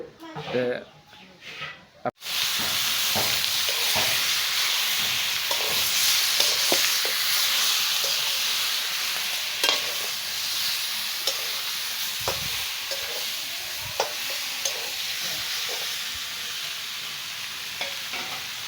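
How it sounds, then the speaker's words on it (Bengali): Goat meat fries and is stirred in a pan with a loud, steady sizzle, broken by scraping spatula strokes after a short opening moment of voice and movement. "খাসির মাংসটা ভালো করে কষিয়ে নিতেছি।"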